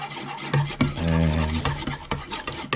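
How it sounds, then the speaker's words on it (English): Homemade tonkatsu sauce being stirred in a bowl, a steady rubbing, scraping swirl that runs close and fairly loud through the short stretch with no talking. "Just stir that all up"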